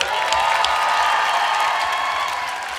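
A crowd at a Christian worship gathering claps and cheers in a dense, steady wash of applause that holds for a few seconds and then begins to fade slightly.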